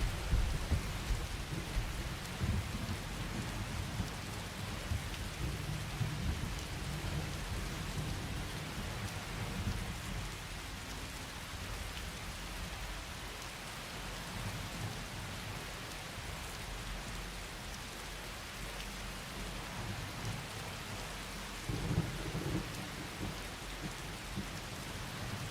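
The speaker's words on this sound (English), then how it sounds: "Might need to turn down the fucking rain just a little bit." Heavy rain pours steadily in the video game Arc Raiders while deep thunder rumbles roll underneath. The downpour is a constant, close, full hiss with no voices over it.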